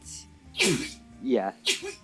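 A sharp human sneeze, followed by a second one about a second later, close and loud, with someone talking briefly around them.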